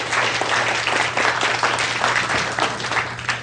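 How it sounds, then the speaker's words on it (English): A seminar audience on conversational hypnosis gives a round of applause: dense, steady clapping that fills the room at an even level, with a low electrical hum underneath and no speech. "Give him a nice round of applause"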